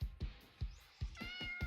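A cat in the video game Eternal Twilight gives a drawn-out meow over a faint, steady series of soft thumps, with no talk.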